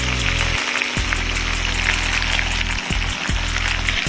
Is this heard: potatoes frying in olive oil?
yes